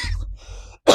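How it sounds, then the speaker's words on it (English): One person coughs briefly and harshly, close up and loud, with a sharp burst at the end after a short pause. "I don't know where that cough came from"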